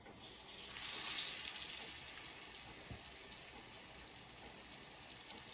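Chicken pieces frying in a hot pan for chicken cacciatore, giving off a steady hissing sizzle that swells early and then settles into a constant crackle, close by, with no voices.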